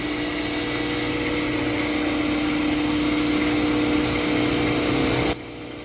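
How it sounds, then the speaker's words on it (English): Angle grinder resurfacing a John Deere 2955 tractor flywheel mounted in a lathe, giving a loud, steady, continuous grinding whine that runs unbroken for about five seconds, then drops off abruptly near the end. "we got it all set up in the lathe, got it, grinder, everything's centered,"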